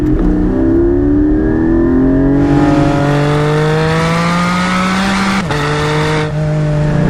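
A 2021 Porsche 718 Spyder with PDK and a high-revving 4-liter naturally aspirated flat-six pulls hard through the gears, its loud rising wail climbing steadily, briefly dropping at a shift, then climbing again, heard up close on the road.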